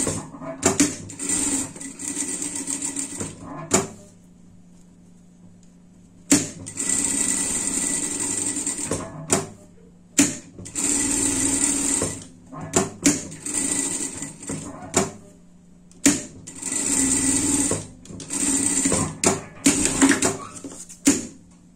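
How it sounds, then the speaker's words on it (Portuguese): A sewing machine runs in repeated bursts of stitching, sewing a seam along a fabric tie piece. The whirring passes stop and start with short quiet gaps between them, close and clear, with no talking. "Passar uma costura aqui por tudo."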